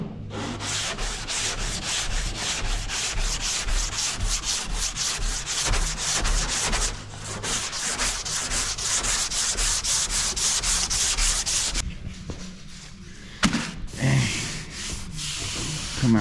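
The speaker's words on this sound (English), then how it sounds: "it is sanding really dang nice" Continuous scratchy sanding across the body of a Chevrolet Caprice being prepped for matte black paint, with loud rhythmic strokes up close that stop briefly near the end and then resume.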